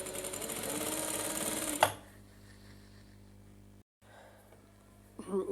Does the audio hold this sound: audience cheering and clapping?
no